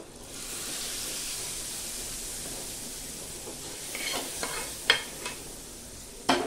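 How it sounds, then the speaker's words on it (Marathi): Hot garlic tempering poured onto cooked spinach, a loud continuous sizzle and hiss that settles, followed by a few sharp clatters of the pan toward the end. "आता ह्या भाजीवरती ही फोडणी जी आहे ना गरम गरम हे टाकूया"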